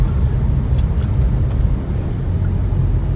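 Car creeping through bumper-to-bumper traffic, a steady low engine and road rumble heard from inside the vehicle, continuous and even with no voices.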